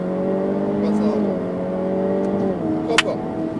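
Ferrari F8 biturbo engine pulling hard on the Le Mans circuit, a loud sustained roar with rising pitch and a gear change, heard from inside the car with a voice talking over it.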